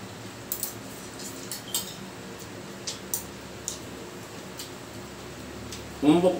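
Cutlery clinks faintly against a plate during a meal of shrimp sinigang with bagoong, a handful of sparse, light taps spread over quiet room tone, with a brief louder burst of sound near the end.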